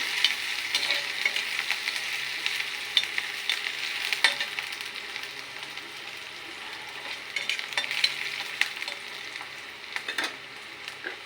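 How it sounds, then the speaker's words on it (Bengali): Onion and garlic fry in hot oil while being stirred, a steady sizzle broken by irregular scraping and stirring clatters, close and alone without voices. "এখন পেঁয়াজ আর রসুনটা অল্প ভাজা করে নেব।"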